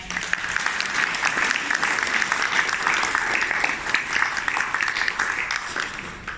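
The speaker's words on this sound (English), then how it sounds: "So I would really like everyone just to give a round of applause." A room full of people gives a round of applause at an anthology awards ceremony, a steady wash of many hands clapping, fairly soft and unbroken from start to finish.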